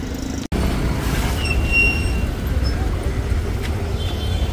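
A dense, steady rumble of Mumbai street traffic near a metro station, with engines droning nearby and a faint high whine passing through.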